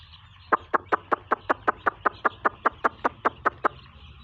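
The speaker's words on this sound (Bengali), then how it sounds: "মুরগি এখন খানা খাইতেছে," Week-old broiler chickens feeding on a farm, with a quiet, rapid, evenly spaced run of about fifteen short clucking notes heard fairly close against a low background hum.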